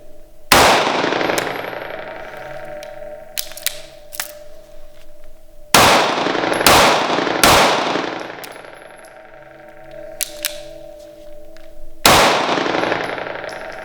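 A Sig P365 pistol is fired with a limp wrist, sharp loud gunshots with ringing echo, a couple of single shots and a quick pair spaced over several seconds, with faint clinks between.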